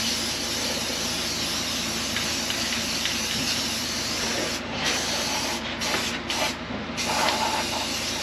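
Paint or coating sprayed up into holes under the lower panel of a 1967 Mustang barn find, a steady hiss with a few short bursts near the end, close by and fairly quiet.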